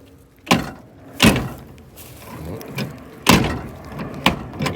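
The door of an abandoned, rusted 1970 Dodge Charger R/T forced open, with several sharp metallic bangs and thuds spaced irregularly among quieter creaks and scrapes, close and loud.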